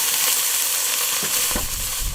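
Bacon and shallots sizzle in a hot pan with a loud, steady frying hiss and a few stirring scrapes, up close.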